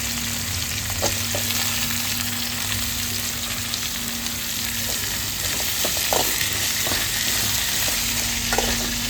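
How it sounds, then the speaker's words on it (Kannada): Raw tomato and onion sautéing in oil, a steady dense sizzle with scattered spatula clicks and scrapes, close and without talk, over a low background hum. "ಟೊಮೆಟೊನೂ ಇದ್ರಾಗ ಉಳ್ಳಾಗಡ್ಡಿ ಜೊತೆ ಹಾಕ್ಕೊಂಡು ಒಂದು ಸ್ವಲ್ಪ ಬಾಳೆಸ್ಕೊಳ್ಳೋಣ ಎಣ್ಣೆ ಒಳಗೆ"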